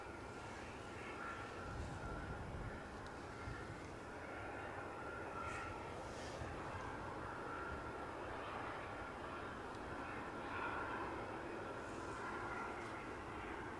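An EasyJet airliner approaches Edinburgh Airport in light crosswind. A faint, distant, steady engine hum and rumble holds throughout, with no clear peak, and nobody speaks over it.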